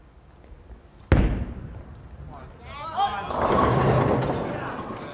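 A bowling shot in a professional Weber Cup match: a sharp thud as the ball lands, a low roll down the lane, then a loud, sustained crash of pins as the crowd reacts.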